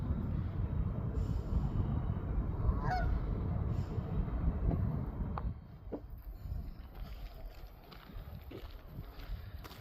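A goose beside the Leeds Liverpool canal gives a couple of short, faint honks over a low rumbling background, with quiet scattered sounds following.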